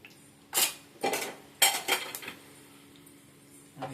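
Mustard seeds, cumin, fenugreek and urad dal hit a hot pan for tempering, giving a few sharp metallic clinks and scrapes of a spoon against the pan in quick, uneven bursts, close and fairly clear.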